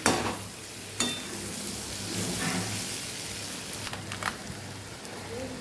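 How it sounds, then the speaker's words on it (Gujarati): Marinated bitter gourd stirred and fried in a pan, a steady crackling sizzle broken by a few sharp spatula scrapes and taps against the pan. "હલાવતા જાશું અને આપણે મિક્સ કરતા જાશું"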